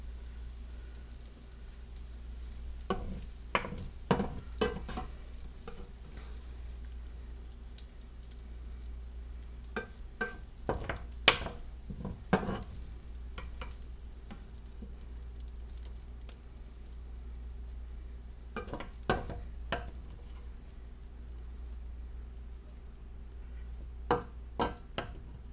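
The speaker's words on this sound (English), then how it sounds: "I'm now pulling my bacon out of the pan onto these napkins to get some of the grease off of it." Bacon fries in a pan with faint, scattered crackles and pops over a low, steady background hum, the spitting coming in small irregular clusters.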